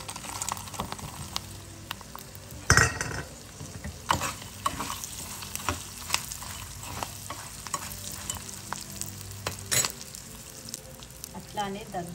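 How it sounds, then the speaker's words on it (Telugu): Cashews fry in a tempering for curd rice offered as a Varalakshmi festival prasadam, a steady close sizzle with spoon stirs and clinks scattered through, sharper knocks near the start and end. "ఇప్పుడు నేను జీడిపప్పు కూడా వేస్తున్నాను"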